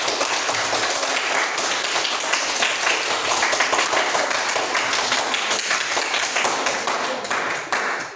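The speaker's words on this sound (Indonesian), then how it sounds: "tepuk tangan untuk kelompok" A room full of people clapping for a group presentation in steady, dense applause that holds for several seconds before tapering off at the end.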